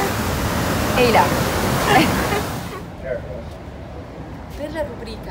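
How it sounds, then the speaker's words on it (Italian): Ocean waves roll in at a San Diego shore as the sea turns rougher, a loud broadband surf wash that fades into quieter rumbling, with people talking over it. "Soprattutto adesso l'oceano si sta un po' arrabbiando, perché rispetto a quando siamo arrivati no, le onde non erano così alte"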